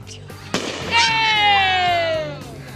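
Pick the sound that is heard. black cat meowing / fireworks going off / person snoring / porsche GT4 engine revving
fireworks going off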